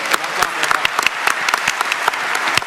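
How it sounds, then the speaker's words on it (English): Applause from a live audience at a PAX West gaming convention stream, a dense crackle of many hands clapping steadily for nearly three seconds, with voices faintly mixed in. "A round of applause for Chris."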